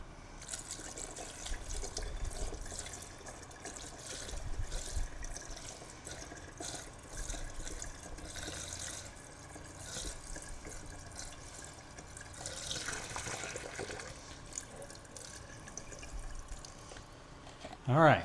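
Washer fluid trickles and drips during a leak test of a replacement windshield washer reservoir and pump on a Chevy Spark. The sound is a faint, steady watery patter with soft rustling, and a brief clatter comes at the very end.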